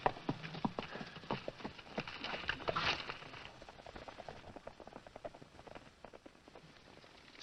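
Horse hooves clip-clop in a steady, uneven rhythm at moderate distance, quiet and continuous, with faint background hiss.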